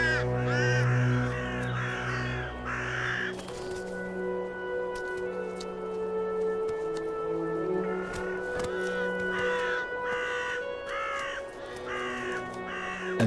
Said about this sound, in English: Vultures and a few crows have led the way for him.